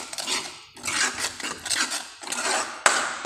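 A metal spoon stirs salt into chole masala in a pan, giving repeated close scraping swishes with pauses and one sharp clink near the end, with no talking.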